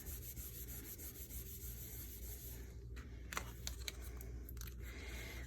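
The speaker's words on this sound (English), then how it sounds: "I'm just going to fold my card over, give that a good rub." A folded paper greeting card having its crease rubbed down: soft, close brushing and rubbing strokes over a faint hiss, with a few light taps near the end and no talk.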